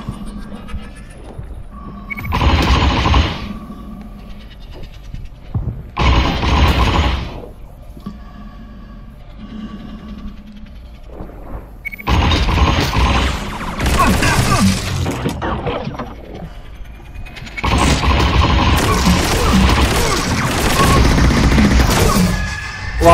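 Bursts of weapon fire in a VR space battle game come in loud, dense volleys of rapid shots separated by quieter gaps, with the final stretches nearly continuous.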